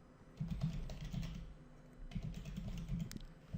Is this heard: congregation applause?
no